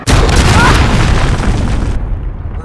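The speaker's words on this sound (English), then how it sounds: "Enemy cruise missile incoming!" A cruise missile explodes in the Call of Duty: Modern Warfare video game, one loud, deep boom that rolls into a long, rumbling decay.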